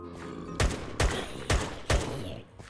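Gunfire in a zombie apocalypse video game: four loud, evenly spaced shots about half a second apart, each with a short booming decay, close and alone without talking.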